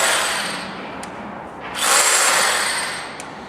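A standard cordless battery drill runs in steady bursts with a whining motor hum, close by and moderately loud, swelling in the middle and tapering off with brief clicks.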